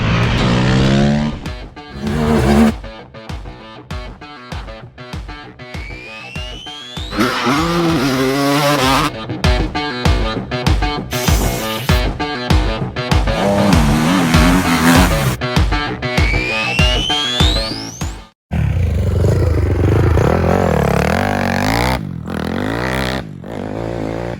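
A Honda CRF450R motocross bike fitted with a big wheel and a welded swing arm rips around a dirt track, its engine revving hard and chopping between bursts of throttle and shifts, loud and close with a brief cut near the end.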